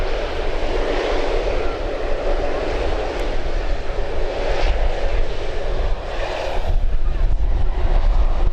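Fixed-wing aircraft departing Birmingham Airport, its engines roaring loud and close as a steady broadband rumble with wind buffeting that swells slightly toward the end.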